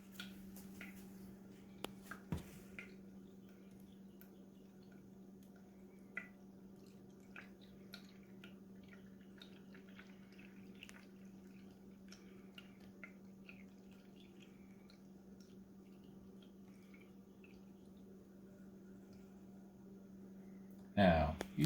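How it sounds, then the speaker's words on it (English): Water drips and trickles through a homemade sand filter in a quiet indoor setting, with faint scattered drips and a steady low hum underneath. "As I poured it into the sand filter."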